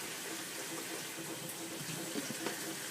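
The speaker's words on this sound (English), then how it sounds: "I'm just going to transfer the squash in there so we can wash that up" Tap water runs steadily into a kitchen sink while squash is rinsed, a continuous close splashing hiss with small clinks and knocks in the basin.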